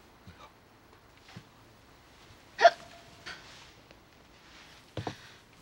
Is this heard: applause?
no